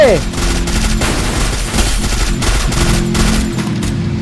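Rapid automatic gunfire from the video game Free Fire, loud bursts fired back to back, mixed with excited players shouting over it.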